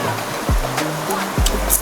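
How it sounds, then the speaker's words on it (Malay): Water gushing from an opened pipe at a campsite near an Orang Asli village in the Cameron Highlands, a strong steady rush with a couple of heavier surges; no talking. "Ini pipe dia buka."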